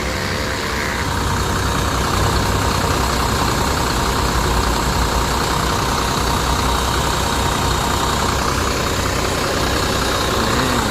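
A large Scania diesel bus engine idles steadily, a continuous low rumble with a constant droning hum and no voices.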